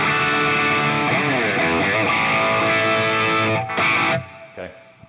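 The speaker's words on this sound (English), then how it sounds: "So a very distorted tone. It's not that impressive really. Sounds like a really cheap distortion pedal." A heavily distorted electric guitar plays through an MVave Tank-G amp modeler, with sustained buzzy chords and shifting notes before the sound cuts off and fades near the end.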